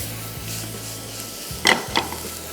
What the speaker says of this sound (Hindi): तो ऑयल गरम और इसमें सबसे पहले शामिल हो गया ये गार्लिक। थोड़ा सा इसको फ्राई किया